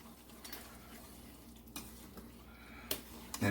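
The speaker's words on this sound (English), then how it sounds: "I stir it real good." Sugar being stirred into strawberry jam in a pot, a steady soft scraping and swishing with light clinks of the spoon against the pan, ending in a louder knock.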